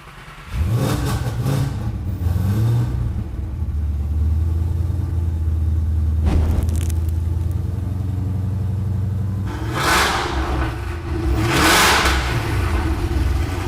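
A loud engine revs repeatedly with an open exhaust cutout, a raw exhaust roar and deep rumbling idle between throttle blips, close by and without speech.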